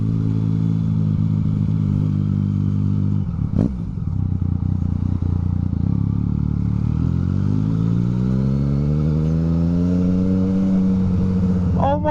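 A motorcycle filters through heavy traffic on a bike night ride out to Hayling, engine droning loud and close, with a sharp clatter early on and a long rising rev as it accelerates.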